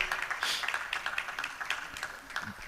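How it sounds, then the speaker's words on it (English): Audience applause at a conference, a steady patter of many hands clapping at moderate distance without pause. "Keep clapping."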